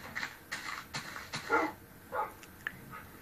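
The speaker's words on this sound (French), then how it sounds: "là j'ai mis des chiens" Dogs in the Minecraft video game give a series of soft yips, whimpers and small barks, spaced irregularly and fairly faint, with no speech.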